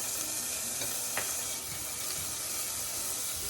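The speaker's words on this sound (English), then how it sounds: "my onions are sauteing nicely. I'm going to add just that little tiny bit of garlic that I have there." Onions and garlic sautéing over medium heat in a pan, giving a dense, even sizzle throughout with a couple of faint knocks, steady and close with no voices.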